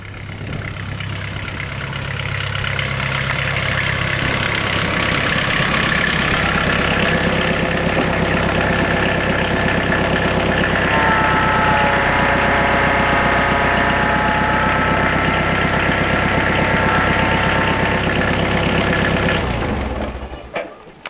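A Cummins 12-valve diesel engine in a truck idles steadily and loudly for about twenty seconds, a deep continuous rumble with a faint whine that briefly rises midway, then cuts off near the end.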